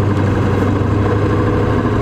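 An OBS Ford Powerstroke diesel truck engine while driving: a loud, steady low rumbling drone with fast rhythmic pulsing, close and continuous, no talking.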